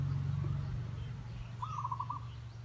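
A zebra dove, also called a Java dove, gives a short rolling coo, faint and a little distant over a low steady background hum, with no one talking.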